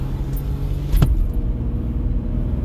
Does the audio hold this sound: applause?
no